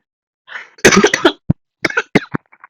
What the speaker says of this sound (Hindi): खांसी क्यों आ रही है?